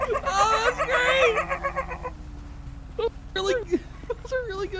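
A person imitates a chicken with a run of loud, rhythmic clucking, then breaks off into short bursts of laughter and talk.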